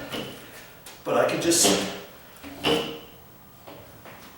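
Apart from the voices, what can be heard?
hollow-core door being tilted back and forth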